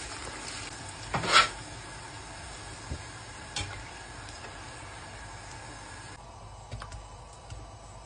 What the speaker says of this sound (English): I'm cooking some prawn crackers to go with the smooth hound. They explode like magic.